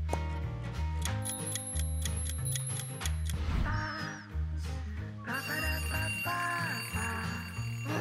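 A cartoonish alarm clock built with metal bell caps rings in bright, repeated metallic trills over steady background music, pausing briefly midway and then starting up again.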